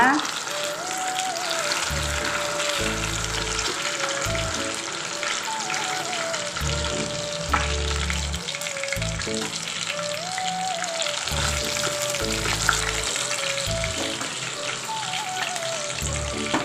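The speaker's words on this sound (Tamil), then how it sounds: "சூப்பராக மொறு மொறுன்னு மீன் வறுவல் ரெடி ஆகிடுச்சு" Masala-coated fish pieces fry in hot oil, crisping up as a continuous crackling sizzle that runs beneath prominent background music.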